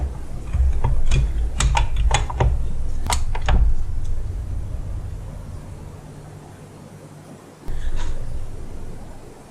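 A torque wrench tightens a spark plug into the aluminum head of a 2005 Honda CR-V, giving a quick run of close, crisp ratcheting clicks that stop after a few seconds, followed by quiet handling.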